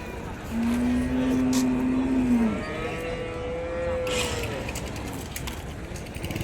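Native cattle and bulls tied up at the Vaniyambadi cattle market; two long lowing moos sound near, one after the other, amid outdoor market bustle and background voices.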